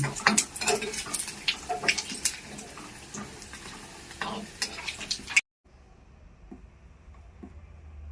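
Paneer cubes fry in a pan, close sizzling with repeated clinks and scrapes as the pieces are turned and lifted out, then an abrupt cut to a quieter, faint sizzle.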